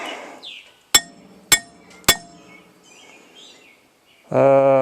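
A hammer strikes cast iron three times at an even pace, each sharp metallic hit with a bright, lingering clang, followed by a loud buzzing burst at the end.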